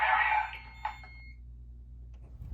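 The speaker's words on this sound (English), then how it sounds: "And speaker strobes are going, or speaker strobes going off, but strobe's not flashing." A fire alarm speaker strobe sounds a loud electronic tone during a test, the tone fading after about half a second and followed by a short blip, then near silence with a low hum.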